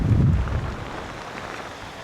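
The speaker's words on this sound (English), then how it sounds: "look at the sand whisking across there. That's how windy it is." Strong wind blowing across a sand beach at Cambois, Northumberland, during sea fishing, a steady low roar with gusty rumble loudest at the start, then easing to a constant buffeting.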